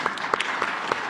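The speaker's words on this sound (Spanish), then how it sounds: "Un aplauso." An audience applauds at a presidential press conference, a brief burst of scattered, distinct hand claps at moderate loudness with no speech over it.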